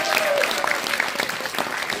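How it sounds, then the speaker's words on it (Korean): Audience applause at a public lecture in Yangpyeong, a dense patter of clapping with a few sharper claps and faint cheering voices mixed in. "박수 다시 한번 보내주시고요."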